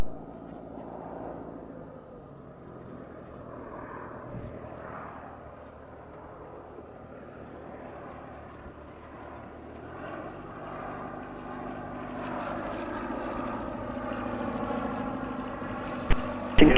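A light aircraft landing on runway 8 right at Spirit of St. Louis Airport, engine and propeller drone rising steadily and growing louder toward the end, heard fairly near with no talk.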